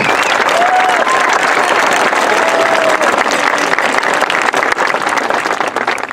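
A large crowd at a high school graduation commencement applauds loudly and continuously, a thick roar of clapping with a few brief vocal calls rising through it.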